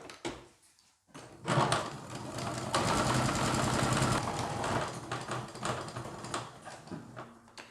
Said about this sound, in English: the sewing machine is out, and what we're going to do is run a line of straight stitch all the way down the front of the shirt